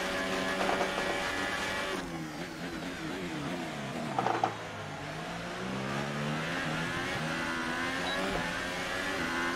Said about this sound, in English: That is nice engine power, isn't it?